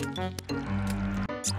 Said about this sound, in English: The pigs were bathing in the mud.